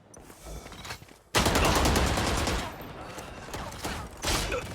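Gunfire in the video game Valorant: a near, loud burst of rapid shots that starts abruptly and stays sustained, followed by further shots and game noise, with faint talk underneath.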